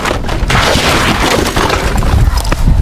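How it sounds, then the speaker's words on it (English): A motorcycle crashes into a black SUV turning left after a police chase, the impact lost in loud, continuous broadband roaring noise and thumps with no clear separate bang. "a black SUV, unaware of the chaos behind it, makes a left turn, sending the biker tumbling"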